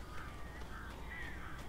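Crows caw several times in the video game Alan Wake, faint, distant calls spread over a constant low ambient rumble, with no speech.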